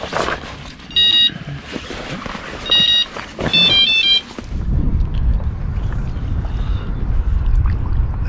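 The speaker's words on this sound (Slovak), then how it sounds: "Ale fučí celkom už." Wind blows over a Slovak reservoir during carp fishing from a boat, roaring and buffeting steadily into the microphone in the second half, after a few short high electronic beeps sound over quieter background noise.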